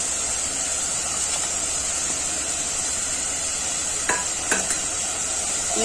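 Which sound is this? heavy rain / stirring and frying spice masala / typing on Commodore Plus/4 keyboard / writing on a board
stirring and frying spice masala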